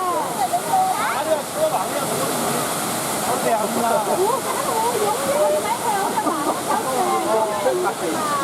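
Waterfall pouring into a pond in Luang Prabang, Laos, a steady loud rushing roar, with people swimming below whose voices and splashes come faintly through the water noise.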